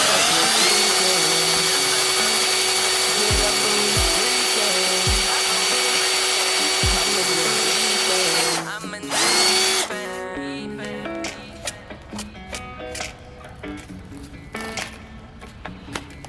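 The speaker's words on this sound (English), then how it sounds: "you just want to let the drill do all the work" A power drill with a small bit drills out pop-rivet bumper clips on a Dodge Charger rear bumper. It gives a steady high whine for about eight seconds, then stops, followed by scattered clicks and light clatter.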